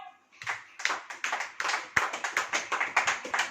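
A church congregation claps together during a sermon, a run of fairly loud, sharp hand claps in a steady rhythm that starts after a brief pause, with no talking over it.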